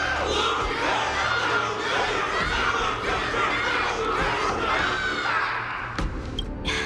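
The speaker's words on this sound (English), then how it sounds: "Everyone's cheering for you" A video game crowd roars and cheers after a martial arts tournament battle, with overlapping shouts and cries sustained throughout, then a couple of sharp hits near the end.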